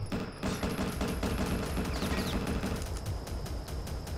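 Rapid gunfire bursts in the video game Eurocops, a dense, continuous volley of shots that stays loud throughout and thins slightly toward the end.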